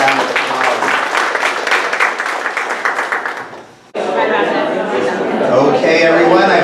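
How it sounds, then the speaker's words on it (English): Audience applause for the speakers at a local community event, dense clapping filling the room, fading briefly midway and then resuming strongly, with some chatter underneath. "Let's give them another round of applause."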